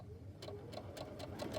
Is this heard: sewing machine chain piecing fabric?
yes